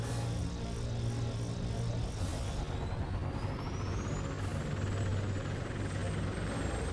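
A plane engine in a video game drones loudly and continuously, with a steady rumble and a whine that rises in pitch partway through.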